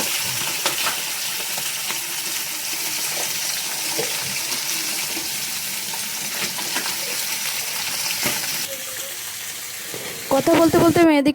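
Pomfret fish fries in hot oil in a pan with a steady, close sizzle and crackle. Near the end there is a brief clatter of utensils.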